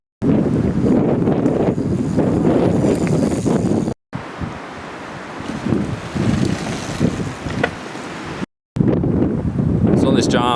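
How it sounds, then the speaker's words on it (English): Strong wind buffets the microphone in a steady roar at a downhill mountain bike race course, with brief gaps of silence and rushing air throughout. "If it wasn't as windy as it is now"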